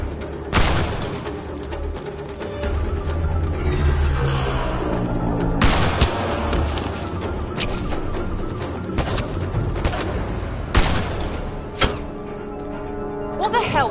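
Gunfire bursts in the video game Mass Effect Andromeda, several sharp loud blasts and booming volleys spaced across the stretch, with dramatic music and shouted voices between them.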